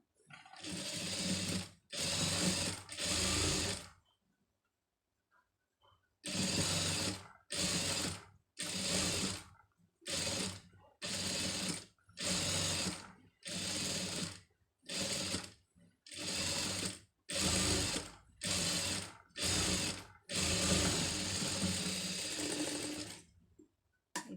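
A sewing machine stitching a neck design on a garment runs in short, fast rattling bursts of a second or so, over a dozen starts and stops with one longer pause, close and without talk.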